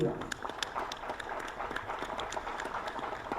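A conference audience at a talk on disability, resilience and inclusion bursts into steady applause, a dense patter of many hands clapping at close range that continues evenly throughout with a faint murmur of voices beneath.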